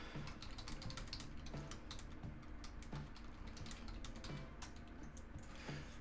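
Typing on a computer keyboard while writing code in Visual Studio, a steady rapid patter of close key clicks with no speech, running throughout over a low electrical hum.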